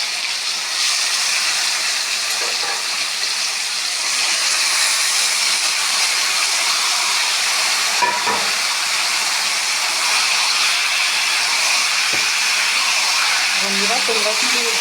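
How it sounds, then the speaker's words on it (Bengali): Taro stolons sizzle in hot oil in a wok, a steady loud hiss filling the whole stretch with a few faint clinks near the end. "কড়াইয়ের মধ্যে পুরো কচুরলতিটা দিয়ে দিচ্ছি।"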